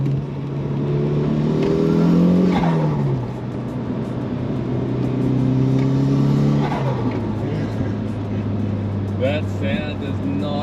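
A turbocharged Mitsubishi RVR minivan engine running on wastegate pressure at about 15 psi of boost with a Turbo Smart actuator, loud and close, its steady drone climbing in pitch as it accelerates, then dropping and rising again.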